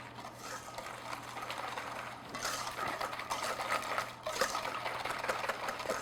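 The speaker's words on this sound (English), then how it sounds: "I'm going to add, you know, part of the sugar. Whisk that in." A whisk beats sugar into a lemon bar mixture in a bowl, a steady close scraping and swishing that continues throughout and grows slightly busier in places.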